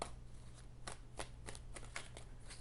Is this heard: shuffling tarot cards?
yes